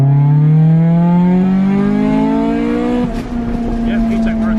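A Honda Civic EG hatchback engine revs hard, its pitch climbing steadily in a strong rising whine before easing off near the end, loud and close with no talk.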